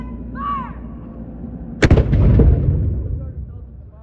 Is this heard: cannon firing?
yes